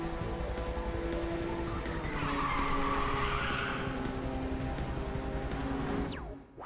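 Race cars in the Ridge Racer 6 video game, a sustained roaring engine drone with skidding tire squeal and a rising whoosh midway as nitrous fires, ending abruptly.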